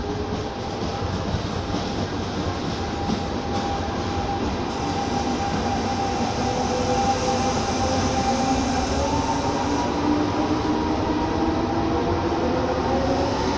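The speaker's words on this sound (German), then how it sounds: "Hier Leute, der Zug fährt jetzt auch gerade weg." Fast Italian train pulling out of a station, a loud steady rumble of wheels and running gear with a rising whine and faint squeal, sustained close by throughout with no voices.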